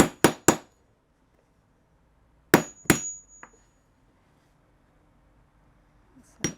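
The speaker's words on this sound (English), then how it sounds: "Setter on top. There we go, hammer." Hammer strikes a rivet setter seated on a handbag rivet over a little felt pad: three sharp metallic taps in quick succession, a pause, then two more close blows and a lighter tap, each loud and close with nothing else between.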